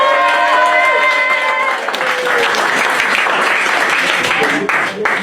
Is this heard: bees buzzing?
no